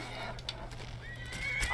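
A horse in the video game Skyrim whinnies clearly amid galloping clip-clop hoofbeats, with a sharper neigh near the end over steady game background noise.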